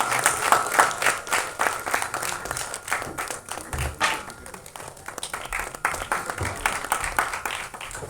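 A festival audience at a directors' club album song screening applauds a writer and lyricist taking the stage, with steady, moderately loud crowd clapping sustained throughout and a few sharper individual claps standing out.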